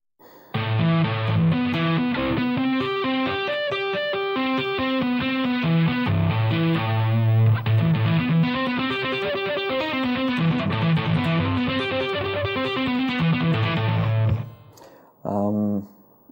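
Electric guitar playing a smooth, flowing arpeggiated legato pattern, with steady notes running through a repeating chord sequence, close and clear, then a brief pause and short final phrase.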